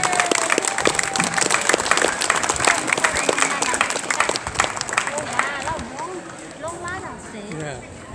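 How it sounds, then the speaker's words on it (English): A crowd applauds at a fire station open day as a firefighter reaches the ground, loud broadband clapping with some voices, fading slightly toward the end. "so can we give a nice round of applause"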